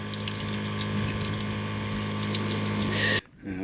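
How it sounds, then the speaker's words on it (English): A hose of water rinsing salt off a jet ski, a steady close spray with a pump-like hum that runs continuously and then cuts off abruptly near the end. "Just a quick rinse."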